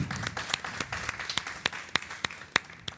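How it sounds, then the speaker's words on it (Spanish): Applause from an audience for a museum historian at a Spanish-language panel talk in Santo Domingo, sparse and uneven claps with a few sharp louder hits, fairly close, with no talking. "Un aplauso para José, por favor."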